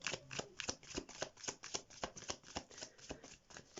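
Tarot cards from a Light Seers deck are shuffled by hand in quick repeated riffling bursts, close and steady, with no speech.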